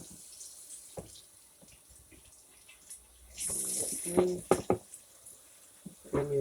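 Tap water running into a kitchen sink during washing up while sweet potatoes cook, starting partway through as a steady splashing stream broken by clinks, with a brief spoken word near the start.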